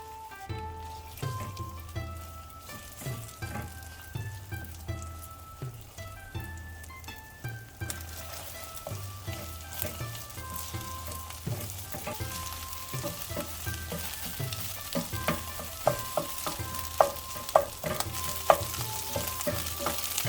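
A spring onion egg scramble cooks in a pan, giving a continuous close sizzle with frequent small crackles and pops that grow denser and brighter partway through, no voices.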